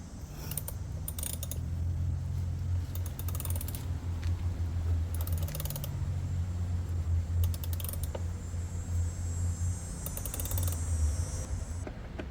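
A screw being backed out of the air filter housing on a Mercedes-Benz, heard as rapid repeated ratcheting clicks from a hand tool over a steady low hum, close up and continuous.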